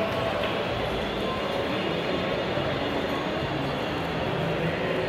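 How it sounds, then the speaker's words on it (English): A kids' ride-on train rolls through a busy shopping mall, a steady rumbling wash blended with crowd noise and echoing indoor chatter. "there's like a train that takes kids around"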